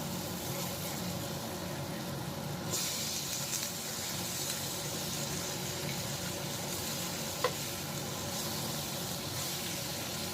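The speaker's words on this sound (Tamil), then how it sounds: "மீனை அஞ்சு நிமிஷம் ரெண்டு பக்கமும் பொறிச்சு எடுக்கணும்" Fish fries in a pan with a continuous bright sizzle and hiss, steady and close, with one small sharp pop partway through and no talking.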